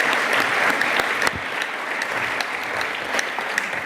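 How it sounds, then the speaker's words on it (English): Conference audience at a closing plenary session applauding, loud dense clapping that eases slightly after the first second and then holds steady. "je vais vous demander un grand applause pour tout le monde"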